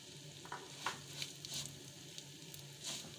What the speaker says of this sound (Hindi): हमने 3 से 4 चम्मच घी लेकर उसको गर्म कर लिया है। इसमें हम अपनी सेवइयाँ डालेंगे